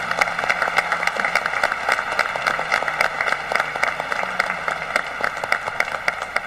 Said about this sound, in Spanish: un aplauso para el Cabildo, para nuestro señor Cardenal y para todos